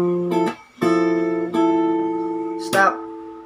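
Two strings of an acoustic guitar plucked together, ringing out in several sustained notes with sharp attacks and a short gap between the first two.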